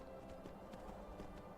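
A stolen horse gallops in Skyrim, a steady quick clip-clop of hooves under a constant low game ambience, fairly faint and close.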